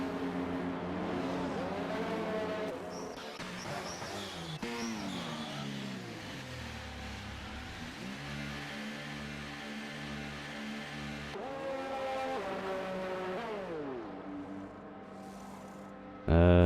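Engines of race cars in an F1 racing video game at the Austrian circuit drone and rise and fall as they run behind the safety car, with shifting pitch sweeps and a commentator talking over them.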